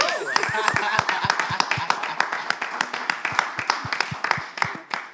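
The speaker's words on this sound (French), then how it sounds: "je vais vous demander d'abord d'applaudir Monsieur Aloyi et le raccompagner à sa place" A studio audience at a televised prize show claps with sharp, distinct hand strikes, some in loose rhythm, while a voice and background music carry on over the clapping, which fades toward the end.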